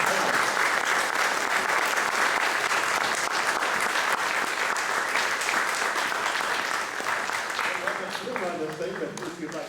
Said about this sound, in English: Let's have a big hand of applause for ladies and gentlemen